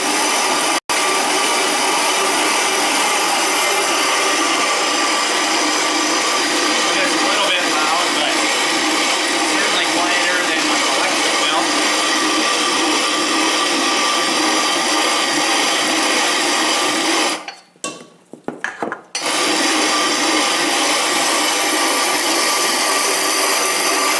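A Country Living hand grain mill, clamped to a kitchen island, grinds grain with a loud, steady, coarse rasping that runs almost without a break, stopping briefly near the end before starting again.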